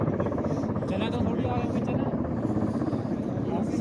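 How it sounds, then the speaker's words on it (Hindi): A helicopter landing at Kedarnath: loud, steady rotor throb and engine whine fill the clip, close by, with people talking underneath. "तो हेलीकॉप्टर उतर चुका है,"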